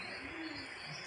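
Pigeons nesting with chicks inside a home, heard as soft, close cooing over a steady background hum in a brief moment.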